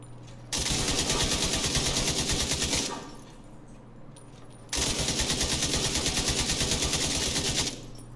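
A light machine gun in the shooter The Division 2 fires two long sustained bursts of rapid, evenly spaced shots, loud and close, with a short pause between them.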